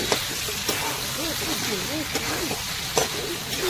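Prawns, already fried and large, sizzle and hiss while being sautéed in a pan for a Bengali potol chingri curry, a steady close frying crackle with occasional stirring scrapes and a person talking over it.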